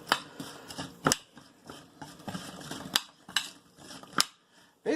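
A spoon mixing kosher salt and ground ginger in a bowl for a pork chop rub, sharp scraping clinks repeating irregularly, close and fairly crisp, with no voices.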